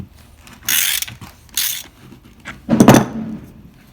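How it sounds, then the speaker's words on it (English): A ratchet wrench worked back and forth in reverse to back a bar stud out of an Echo chainsaw, giving three short bursts of clicking pawl ratcheting, close and fairly loud, with quiet pauses between them. "ratchet in reverse, you just work it back and forth, and it'll take that stud right out of there"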